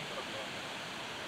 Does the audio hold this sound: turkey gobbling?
no